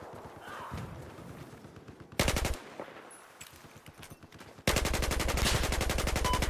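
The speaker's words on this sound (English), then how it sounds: "there appears to be a hostile machine gunner" Loud, rapid bursts of automatic machine gun fire in Battlefield 4 online play, rattling in sustained streams with a quieter stretch between them.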